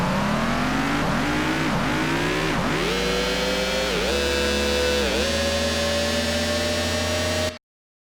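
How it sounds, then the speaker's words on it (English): A synthesized cyberpunk vehicle sound comes from a wavetable synth in Phase Plant. It gives a buzzy, engine-like drone with repeated pitch dips and rising sweeps like gear shifts, then levels into a steady high whine before cutting off abruptly. "This is the main core of the vehicle sound, is just this one MIDI note running these 3 little modules in Phase Plant."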